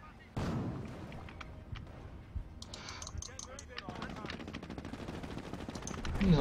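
Gunfire from the Company of Heroes British campaign crackles in rapid bursts of machine-gun fire and heavier booms, busy and continuous, with a voice talking over the battle.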